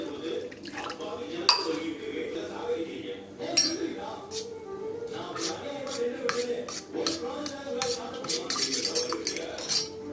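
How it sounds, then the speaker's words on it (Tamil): Spice masala being mixed with water in a bowl for garlic chutney, a spoon clinking and scraping against the bowl in repeated near taps with soft liquid sloshing, while a person talks throughout. "இது நல்லா நான் கட்டியே இல்லாமல் மசாலா எல்லாத்தையும் இப்படி கரைச்சி வச்சுட்டேன்"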